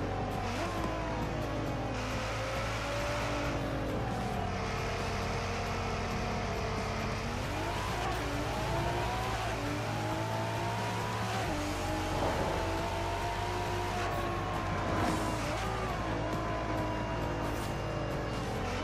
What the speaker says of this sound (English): That V6 sounds incredible.